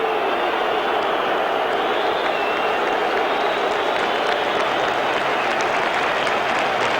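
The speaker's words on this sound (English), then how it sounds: "The crowd standing to applaud Pearce as he comes off" A football stadium crowd at a Premiership match between Sheffield Wednesday and Newcastle United stands and applauds a player leaving the pitch, with loud, sustained clapping and crowd noise filling the whole stretch.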